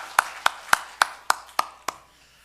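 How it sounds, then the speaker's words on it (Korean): A church congregation at an early-morning special prayer service claps in unison: seven sharp, evenly spaced claps about a quarter-second apart, crisp and close, then silence. "우리 하나님께 영광의 박수 올려드리겠습니다."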